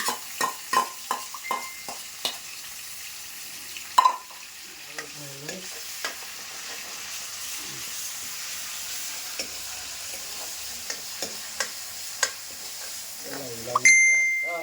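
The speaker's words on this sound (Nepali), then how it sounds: "अब हालिदिनु पर्यो अदरक लसुन पेस्ट" Ginger garlic paste being stirred into a hot pan, frying with a steady sizzle under repeated sharp metallic clinks of a spoon against the pan.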